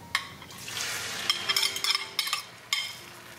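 Beaten eggs pour into hot olive oil with cumin seed in a frying pan, a sudden burst of hissing sizzle that swells and crackles in uneven surges, close and moderately loud, with no one talking.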